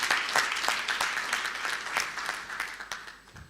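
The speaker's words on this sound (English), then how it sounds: "give them a big round of applause one more time." An audience at an anniversary celebration in a Kigali hotel applauds, a dense, steady wash of clapping heard from a moderate distance that slowly fades.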